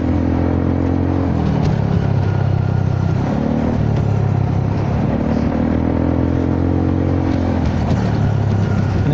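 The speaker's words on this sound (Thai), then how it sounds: "นี่ก็กำลังเครื่องอะไรก็ยังเร่งดีเหมือนเดิมนะฮะ" Honda Forza 300 scooter engine with a 76 mm bore kit, riding on the road and repeatedly accelerating, loud steady drone with rising and falling rev sweeps and wind noise, no talk.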